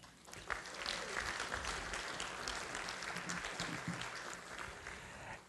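Applause from an audience at a celebration-of-life memorial gathering, dense steady clapping lasting several seconds, moderately distant and fairly even in level.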